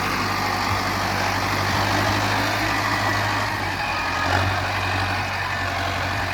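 A tractor pulling a super seeder while sowing wheat in a field: a continuous heavy diesel drone with a steady low hum, close and loud, holding evenly throughout with a slight swell midway.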